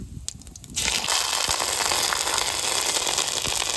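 Ginger paste hits hot oil with bay leaf and whole cumin for a rohu fish curry, bursting into a sudden loud, steady sizzle and crackle that continues alone.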